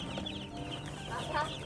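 Chickens clucking close by in short, repeated calls, with a sharper cluck toward the end over a low background murmur.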